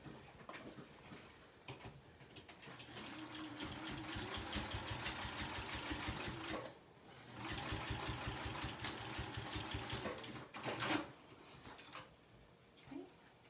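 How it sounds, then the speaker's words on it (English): A sewing machine stitching through a wallet, its rapid mechanical rattle running steadily in two long bursts with a short pause between, close and moderately loud, with soft handling noises around it. "Your machine can totally sew this,"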